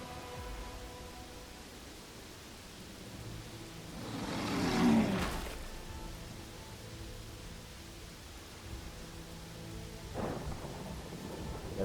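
Thunder and steady rain from the blood rain weather in Pathfinder: Wrath of the Righteous, a continuous wash of rainfall broken by a loud rolling thunderclap midway and a fainter rumble near the end, with no talking.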